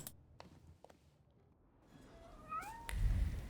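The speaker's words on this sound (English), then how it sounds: "I hear it meowing, and I don't find it." In the video game The Thaumaturge, a cat gives a single rising meow, faint and somewhat distant, preceded by soft clicks and followed by a louder low rumble.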